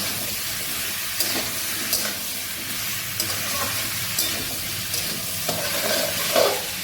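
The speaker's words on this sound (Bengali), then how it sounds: "রসুন আর আদাটা বেশ সুন্দর ভাজা ভাজা হবে" Ginger paste and garlic sizzle in a pan with potatoes, a constant bright hiss of frying broken by occasional soft clicks of stirring, close and steady throughout.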